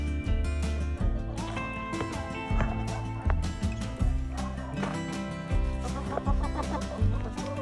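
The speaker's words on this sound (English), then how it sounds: "Now look at all those happy chickens." Chickens cluck steadily while being fed squash, a lively flock sound mixed with a busy background, with no talking.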